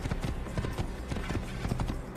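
Horse hooves clip-clop steadily in the Assassin's Creed video game, an even run of close hoofbeats over a soft background bed.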